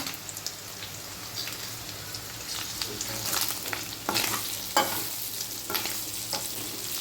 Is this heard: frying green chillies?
yes